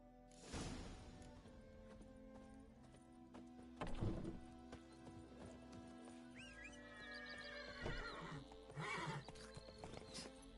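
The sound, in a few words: horse neighing and hooves in video game Witcher 3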